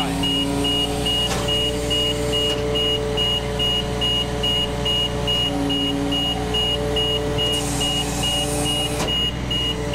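Ladder fire truck engine idling steadily while the outriggers are set up, a continuous low drone with a high steady electronic tone pulsing alongside, plus a few brief clunks and a short hiss near the end.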